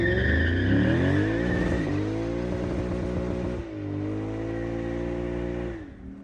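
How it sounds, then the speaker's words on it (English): Loud Lexus GS-F or RC-F rear tire burnout, engine revving hard with rising and falling pitch over screeching tires, dipping briefly midway then continuing before cutting off near the end. "We did a couple of burnouts."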